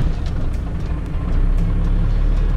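A Ford 7.3 PowerStroke diesel truck engine, a little chilled, cranks and catches, then settles into a loud, deep, steady rumbling idle. The sound is close and continuous.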